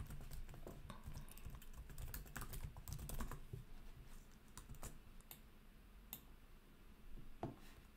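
Computer keyboard keys clatter in quick irregular bursts as a file path is typed, close and quiet, with short pauses between flurries and no talking.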